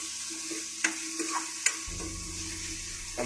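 Onions being stirred as they fry in a pan for a traditional Assamese tribal dish, with a steady close sizzle broken by a few sharp scrapes and clinks of the utensil.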